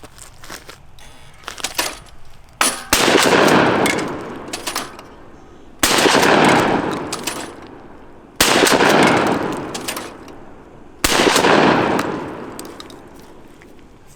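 Shotgun shots at clay targets on an outdoor range with a tactical shotgun, likely a Mossberg, Revolution Armory or Churchill model: four loud, evenly spaced blasts, each ringing out with a long decay, and quieter clicks and handling noise between them.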